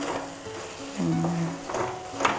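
Taro leaves are stirred in a pan while cooking with fish, giving a soft sizzle with a few brief scraping strokes over a short moment, close and moderately quiet.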